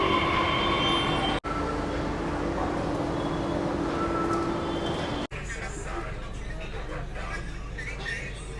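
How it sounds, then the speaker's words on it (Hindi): Delhi Metro train rolling along the track, a steady loud rumble and hum with a faint squeal, broken by two brief dropouts before it continues slightly quieter; a voice talks over it. "ये फ़िलहाल अपनी कुछ मेट्रो, और इसी में हम बोर्ड होकर टिल राजीव चौक ट्रैवल करेंगे।"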